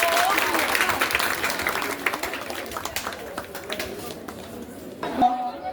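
An audience applauds a prize winner at a school language event at Apata Grammar School, with dense, lively clapping mixed with crowd chatter that gradually thins out, then a voice and a brief louder burst near the end.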